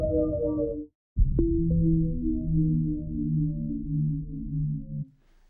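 Analog modular percussion high boom hits, a pitched tonal synth boom that rings out with a steady sustained low body and slight chorus-like wavering, following a brief short hit, alone with no talk.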